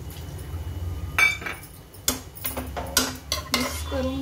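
Mutton biryani masala with tomato, coriander, mint and a little water being stirred in a pot over medium gas, with a few sharp spoon-on-metal scrapes and clinks standing out over a low steady kitchen background.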